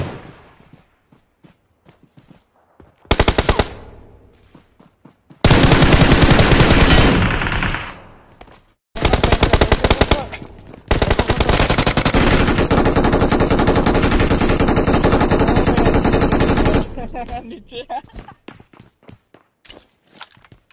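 Machine gun fire in a mobile shooter game, coming in several long, loud bursts separated by short pauses, with faint footsteps in between.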